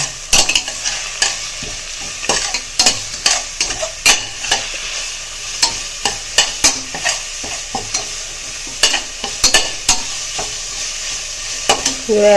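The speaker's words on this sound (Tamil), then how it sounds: "இப்போது இஞ்சி பூண்டையும் போடு போட்டு நல்லா இஞ்சி பூண்டு போட்டோடனே அடி பிடிக்கும் அதனால் நம்ம நல்லா வதக்கி விடணும்" Ginger and garlic fry in hot oil on a low flame for vegetable rice, a loud, steady sizzle broken by repeated rhythmic scrapes of a stirring spoon in the pan.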